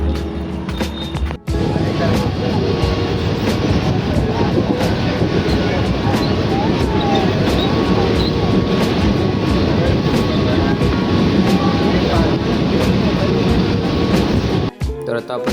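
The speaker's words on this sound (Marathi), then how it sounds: "तर आता आपण चर्चगेट ट्रेन पकडली." Riding a Mumbai local train bound for Churchgate: constant loud carriage rumble and rattling wheels on track fill the ride, with brief dropouts near the start and end and no clear talk over it.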